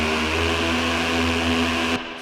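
Sustained industrial techno synth lead built from a wavetable, a dense, buzzy, noisy drone holding steady at high level, then dropping in brightness near the end as the note shifts up a semitone.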